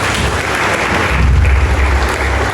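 A church congregation applauds, a dense burst of clapping from many people filling the space, loud and sustained for a few seconds without speech.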